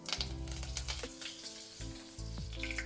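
Mustard seeds, cumin and curry leaves crackling in hot oil for a raw mango rassam, a close, quiet sizzle with bursts of spatter and crackle over a low steady hum, no voices.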